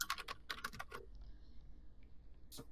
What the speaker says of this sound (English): Loons, what are you typing?